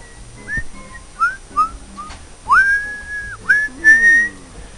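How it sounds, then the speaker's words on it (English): A person whistles along to a song in The Sims 1, producing a string of short sliding notes followed by longer held tones, clear and close over quiet background music. "The amount of times to whistle to that one song."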